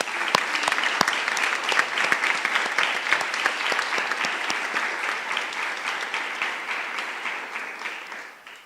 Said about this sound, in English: let's give everybody, including our coaches, a warm round of applause